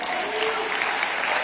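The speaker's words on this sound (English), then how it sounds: "You can clap for yourselves." Audience applause filling a hall, a dense, steady wash of clapping from a large crowd, loud and sustained across the brief moment.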